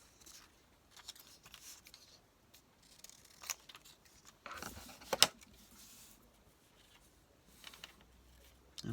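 Scissors snip through paper in short, quiet, irregular cuts with brief pauses, trimming a bright piece for an art journal page.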